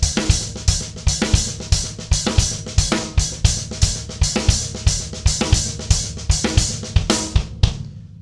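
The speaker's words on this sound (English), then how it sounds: "I'll start with this little kind of mini stacker that I've got here." A small mini stacker cymbal played over a steady 16th-note drum groove with kick and snare, its trashy, clipped hits sounding loud and close in an even rhythm for about eight seconds before a brief ring-out.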